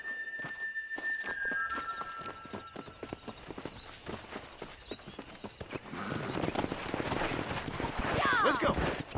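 Horse hooves clip-clop at a riding pace in the Western game Red Dead Redemption, steady thuds building louder toward the end, with a horse whinny and game voices talking over them.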